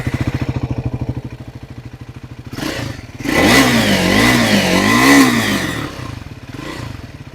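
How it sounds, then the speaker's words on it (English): Triumph Scrambler 400X motorcycle idling with a steady thumping exhaust, then revved hard in a few rising and falling blips before settling back, loud and close. "this is what the Scrambler 400X sounds like"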